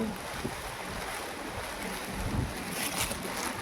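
Strong wind roars steadily into the microphone, a constant loud rush with gusts rising and falling.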